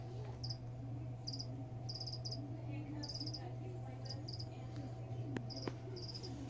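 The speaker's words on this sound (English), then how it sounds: "I was trying to get a peaceful cricket sound, and Caden's choking his brains out in there" Crickets chirp in short, regular pulsed bursts over a steady low hum, close and continuous, with no voices.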